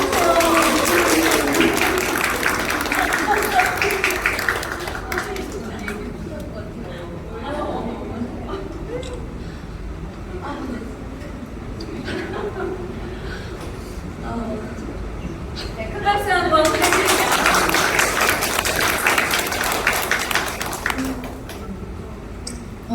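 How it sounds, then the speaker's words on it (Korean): Applause from the audience at a reading event in a multipurpose hall, with clapping at the start and a second burst later. Voices talk and murmur in between the bursts of clapping. "자 박수로 맞이해주세요"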